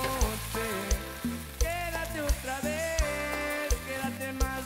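Fried tortilla pieces and eggs sizzle in a pan as they are stirred together, with soft crackling and occasional utensil knocks under steady background music.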